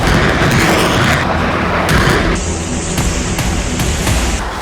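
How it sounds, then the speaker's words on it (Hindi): ATACMS missiles exploding on Russian soil, heavy booming blasts and rumbling detonations that come in bursts, loud and dense, with crackling debris and no speech. "रूसी धरती पर ATACMS मिसाइलें बरस रही हैं।"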